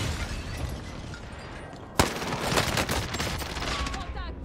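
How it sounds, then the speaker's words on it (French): A stun grenade goes off in Call of Duty Warzone with one sharp bang, then a dense, steady spray of gunfire and combat noise. People talk throughout. "Je balance une grenade"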